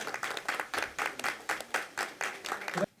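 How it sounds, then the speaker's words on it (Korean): Crowd applause at an outdoor election campaign event for the United Future Party, coming in rhythmic bursts of clapping that swell and fade several times before stopping abruptly near the end. "네, 큰 박수 부탁드리겠습니다."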